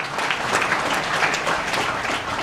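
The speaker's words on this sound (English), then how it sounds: "So big round of applause" Applause from an audience at a Startup Weekend presentation night in Perth, steady and dense clapping that holds at an even, fairly loud level throughout with no voices over it.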